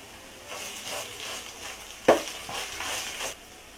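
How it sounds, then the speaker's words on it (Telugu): Ginger garlic paste is stirred into softened onions and green chilies in a pan for mushroom biryani, giving a faint, soft sizzle with scraping stirs and one sharp clink of a utensil midway. "ఉల్లిపాయ మగ్గిన తర్వాత 1/2 స్పూన్ అల్లం వెల్లుల్లి పేస్ట్ వేసుకోవాలి"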